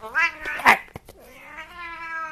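A cat lets out a loud, harsh yowl, a couple of strained cries close to the listener, then a longer, steadier meow that trails off.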